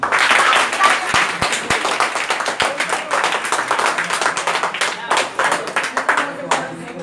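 An audience at a New Year celebration function claps, with sharp individual hand claps scattered through the rhythm before it settles into steady, moderately loud applause.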